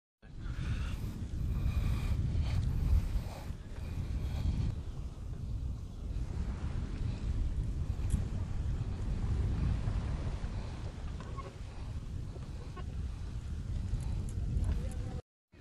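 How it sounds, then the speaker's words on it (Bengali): Strong sea wind buffets the microphone on a beach at Saint Martin Island, Bangladesh, while cycling along the shore, a steady loud rumbling roar that persists for the whole stretch. "অনেক ভাল লাগতেছে যে এরকম খুব বাতাস"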